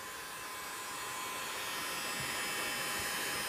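A heat gun blows a steady, loud, even whoosh of hot air while heating a plastic aero port, the tone holding constant and slightly swelling over a few seconds with no talking.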